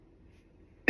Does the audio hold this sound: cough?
yes